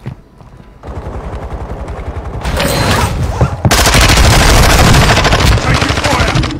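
Rapid automatic gunfire in a first-person shooter video game, with dense bursts that grow louder and more sustained partway through and continue to the end, along with in-game sound effects.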